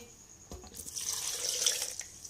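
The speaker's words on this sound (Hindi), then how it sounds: "फिर हम 1 गिलास पानी डालेंगे।" A glass of water pours steadily into a blender for about two seconds with a bright splashing hiss, close by, after a brief knock at the start.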